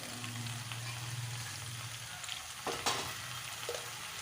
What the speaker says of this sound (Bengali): কিছুক্ষণ একটু ভালো করে কষিয়ে নেব তরকারিগুলো। এর মধ্যে এবার আমি কিছু ভিজিয়ে রাখা ছোলা দিয়ে দেব।